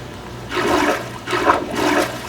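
Water on a Minecraft beach waterpark ride rushes and surges in three loud swelling waves, a steady hissing roar with no voices.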